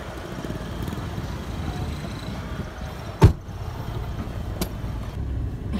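Passengers climbing into a car before a drive to a water park, with a single sharp door thump near the middle and a fainter knock after it, set against a steady low background hum.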